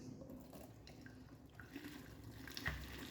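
Boiled water drained from a cooking pot into a sink, a faint, close trickle and splash with a few small knocks and a brief louder spatter near the end, with no voices.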